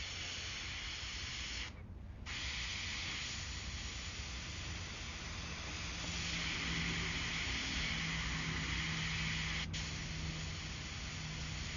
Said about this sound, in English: I let the overspray of the airbrush work for me